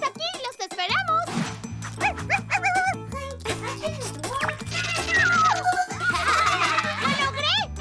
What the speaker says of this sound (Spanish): ¡El cachorrito está aquí!